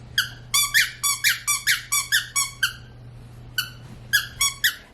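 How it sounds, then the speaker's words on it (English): A deaf dog plays with a squeaky toy, giving a quick run of about ten sharp, high squeaks in steady rhythm, a short pause, then a few more squeaks, close by and without voices. "the irony of a deaf dog playing with a squeaky toy"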